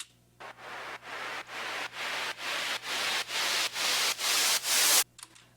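A rising, pulsing synth noise sweep in a house music track: about ten rhythmic bursts of hiss that grow louder and brighter, then cut off abruptly.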